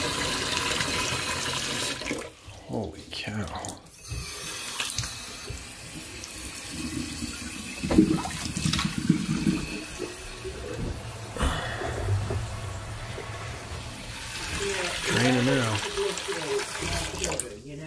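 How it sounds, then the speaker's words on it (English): High-pressure water gushes and sprays steadily while a blocked drain is being cleared, a loud continuous hiss and splash throughout, with people talking over it. "Look at that water pressure."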